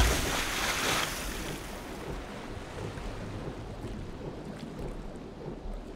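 A party wading into water in the dungeon game Legend of Grimrock 2: a loud splashing rush at the start settles into a steady churning, watery wash that continues alone throughout.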